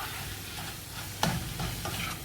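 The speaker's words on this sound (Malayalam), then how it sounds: "നന്നായിട്ടൊന്ന് ഇളക്കാം." Mushroom soup with flour just added, stirred in a pan with a soft steady sizzle underneath and one sharp utensil scrape against the pan partway through, close up and without talk.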